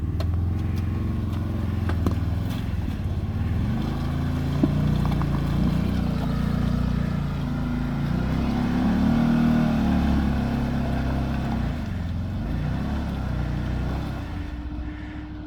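An off-road vehicle's engine rumbles steadily, rising into revs as it climbs an obstacle on a trail, a loud low drone held throughout with no clear speech over it.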